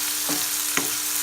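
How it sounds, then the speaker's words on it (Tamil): Tomatoes frying with salt in a pan give off a constant close hiss of sizzling, broken by two soft spatula strokes. "சால்ட் ஆட் பண்ணி நல்லா ஃப்ரை பண்ணணும்."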